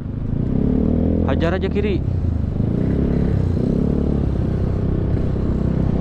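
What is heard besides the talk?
motorcycle with aftermarket exhaust revving in traffic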